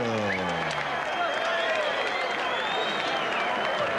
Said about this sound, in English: let's have a round of applause for a great display of courage